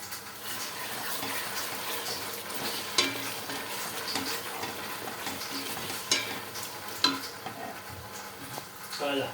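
Ginger, garlic and bay leaves fry in hot oil for biryani, giving a constant broadband sizzle with occasional sharper pops and clinks, steady throughout at moderate level.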